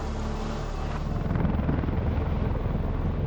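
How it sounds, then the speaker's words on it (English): A V-22 Osprey tiltrotor military aircraft flies nearby with a loud, continuous, deep rotor rumble and steady beating drone that never lets up. "The V-22 Osprey became one of America's most unusual military aircraft"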